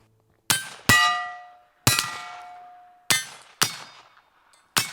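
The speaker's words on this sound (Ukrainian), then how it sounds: "Ну, стрільба по гонгу." Six sharp metallic clangs at irregular intervals as gunshots hit a steel gong target, each ringing out and decaying like a struck steel plate, loud and close with no voices.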